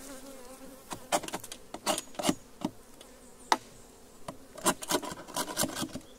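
Honey bees buzzing around a growing swarm at an apiary, with a steady faint hum broken by frequent sharp close-up buzzes as individual bees fly past, no talking.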